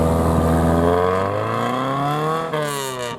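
A Ford Escort Mexico rally car accelerating away at a Ford RS event, its engine climbing through the revs with a loud, throaty rise, a brief gear change, then pulling harder again.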